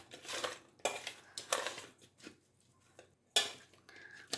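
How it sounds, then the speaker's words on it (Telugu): A spoon scrapes and clinks in a bowl as ginger-garlic paste is mixed into raw fish for a spicy fried-fish dish, giving a few loud, close stirring strokes with short pauses between them. "కొంచెం అల్లం వెల్లుల్లి పేస్ట్ ఒక స్పూన్ వేసుకుందాం ఎక్కువ వద్దు దీన్ని బాగా ఇట్లా కలిపేసుకుందాం"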